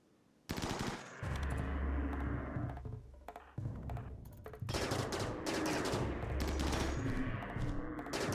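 Sustained automatic gunfire in a video game, near and loud, with dense rapid bursts running almost continuously and a brief lull midway, plus deep low thumps underneath.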